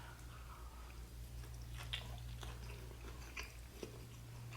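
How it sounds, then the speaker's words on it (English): Someone bites into and chews a sticky, peppery Lao savory bamboo dish, Soop Nor Mai: a few soft, moist crunches and squishes, close but quiet, over low background hum. "Let me take a bite."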